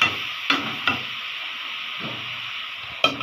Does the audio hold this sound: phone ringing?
no